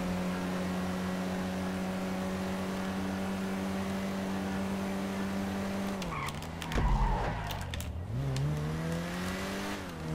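Engine drone of an Elegy sports car racing in GTA 5 Online, a steady high revving tone that dips and shifts as the car brakes and turns, with a burst of tire skid and rumble partway through, no voices.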